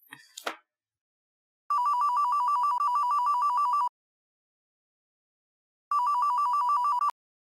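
A telephone rings in two long electronic trilling bursts separated by silence, clear and fairly quiet, with a short clatter at the very start.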